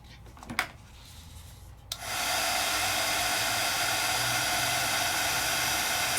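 A heat embossing tool melts embossing powder to a thicker, domed coat. A couple of brief taps and rubs come first, then the tool switches on into a loud, steady blowing hiss that holds to the end.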